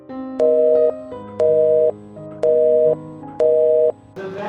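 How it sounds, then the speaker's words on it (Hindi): A telephone line sounds a repeating busy tone on an unconnected call: four evenly spaced steady beeps, each about half a second long, loud and clear with low background hum. "उसका फोन लग नहीं रहा है"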